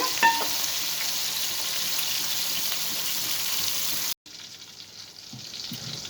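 Continuous hissing sizzle of bitter gourd frying in a pan, broken by a brief silent cut, then quieter frying with faint clinks.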